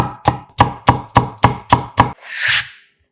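A knife slices half a cucumber into thin 0.3 cm strips on a cutting board, seven crisp, evenly spaced chops close up, followed by a brief brushing sweep as the pieces are gathered.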